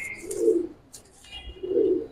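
Silver and red khaki fighter pigeons coo at a loft in two low, rounded bursts separated by a short pause, with faint higher chirps above them.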